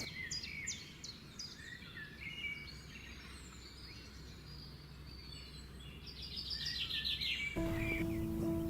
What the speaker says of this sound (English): I'm hearing these pipits passing over here.